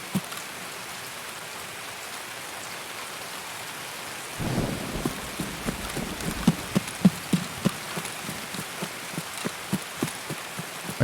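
Heavy rain hisses constantly in a video game raid, joined midway by a low rumble and then a series of sharp, regular impacts that continue to the end.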